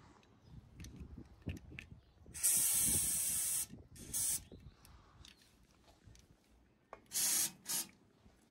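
High-pressure rust-prevention spray blasting into a boat trailer frame: several loud, steady hissing bursts of a second or so each, separated by quieter pauses with light handling noise.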